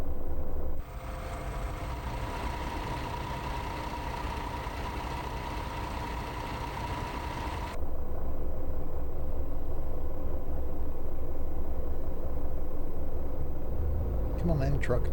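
A coach's diesel engine idles with a steady low rumble and hum, while a higher whine drops out partway through and the rumble continues alone and loud until the end.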